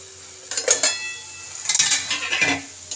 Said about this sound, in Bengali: এবার আমি ঢাকাটা খুলে দেখব।